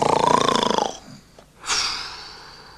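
A storyteller's voice imitates a giant snoring in a fairy tale about Jack and the bags of gold: one long, loud, raspy wheezing snore, a short pause, then a second, breathier snore that fades out.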